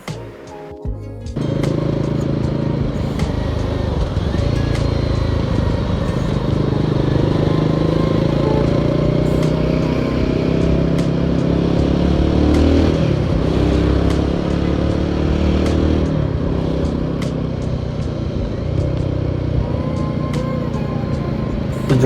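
A Royal Enfield Guerrilla 450 motorcycle is ridden through Bangalore streets. Its engine drones loud and steady the whole way, with light clatter and shifts in pitch as it moves along.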